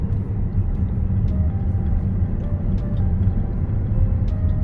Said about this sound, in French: c'est un moteur diesel mais vraiment silencieux